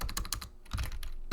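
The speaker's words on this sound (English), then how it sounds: "Not very good at typing." Quick bursts of keystrokes on a computer keyboard as a web address is typed, close and fairly loud with uneven clicking rhythm and a short pause midway.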